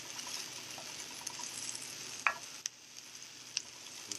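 Something in a pan sizzles softly while being stirred, giving a faint, steady frying hiss broken by a few sharp utensil clicks against the metal.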